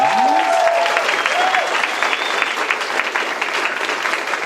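Audience applause at a high school improv night, a steady dense clapping that fills the space with a brief cheer or whistle near the start and stays loud throughout.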